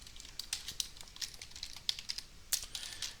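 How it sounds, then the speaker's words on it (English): Fingers type quickly on a computer keyboard, a run of light, crisp clicks in uneven bursts, close and fairly quiet over faint room hiss. "Get that typed up here real quick."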